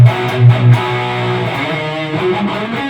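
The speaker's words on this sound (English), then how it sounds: "Like you just heard, this is a diesel head in my patch." Distorted electric guitar through a Fractal diesel amp head patch, thick and saturated, with a few heavy low chugs at the start before sustained, ringing chords.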